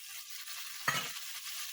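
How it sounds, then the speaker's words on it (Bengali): Prawns frying in a pan, a faint steady sizzle with one brief stirring scrape near the middle, with no voices. "চিংড়ি মাছটা দিয়ে এটাকে একটু ভাজবো।"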